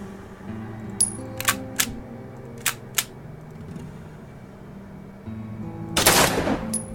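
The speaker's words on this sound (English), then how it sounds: "You could just shoot the padlock off" Gunfire from the video game Don't Escape as a padlock is shot off: several sharp, clipped shots spaced apart, then a louder burst of noise near the end, with a low hum underneath.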